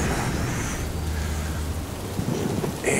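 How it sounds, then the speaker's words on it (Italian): Heavy rain pours steadily with low rumbling thunder beneath it during a storm at sea by a ship's dock, a continuous dense wash with no voices. "Comincia a piovere fortissimo."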